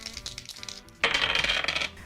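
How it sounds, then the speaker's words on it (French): Dice are rolled on a board game surface, a quiet rattle of small clicks and then a sharp bright clatter as they tumble and settle. "on relance une dernière fois les dés."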